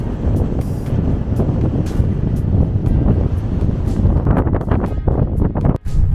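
Strong wind blows across a hilltop near Ooty, buffeting the microphone with a loud, steady broadband roar that continues throughout, with only a brief dip near the end.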